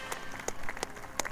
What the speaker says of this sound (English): Are those people cheering?